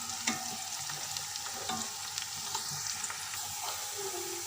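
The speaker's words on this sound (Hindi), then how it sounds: "अब इसको अच्छी तरह से मिक्स करके पकाएंगे ताकि प्याज जो हमारा लाइट ब्राउन हो।" Onions fry in hot oil with cloves and cumin, giving a steady close sizzle broken by repeated scraping stirs of a spoon against the pan.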